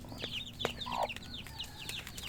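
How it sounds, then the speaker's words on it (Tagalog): Caged chicks and hens make a steady stream of high peeping and chirping with occasional lower clucks. The sound is fairly close but soft, over a faint hum. "Yan yung mga sisiw na nakakulong"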